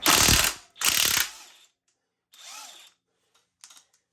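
Ratchet wrench with a 21 mm socket loosening a nut during a Timbersled Riot snow-bike kit install on a 2021 KX450X: two loud bursts of rapid clicking up close, followed by quieter, shorter ratcheting and a few faint clicks.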